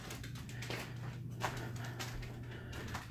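A dog pants softly at home, with quick, faint breaths and a few light whimpers over a low household hum.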